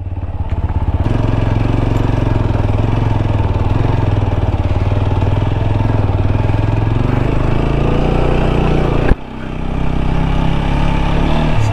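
A TVS Apache RTR 200 4V motorcycle carrying two riders climbs an off-road hill track near Dharamshala, its engine droning loud and steady throughout, with a brief dip near the end.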